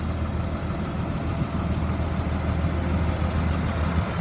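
The engine of a 72-passenger 2004 Blue Bird All American school bus runs at a steady, heavy idle, a continuous low diesel rumble heard close and alone.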